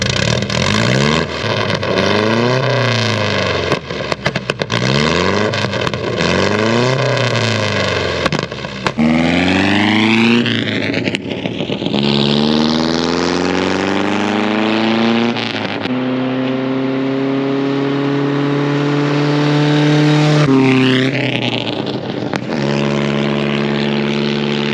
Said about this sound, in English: Here's a little example on how loud the Austin 7 really is.